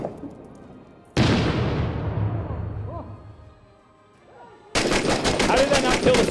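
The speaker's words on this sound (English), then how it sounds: "So I'm chucking a grenade into this other room" A grenade thrown into a room in the war shooter Six Days in Fallujah bursts with a sudden loud, close boom that rumbles away over a few seconds, followed by an abrupt burst of rapid gunfire.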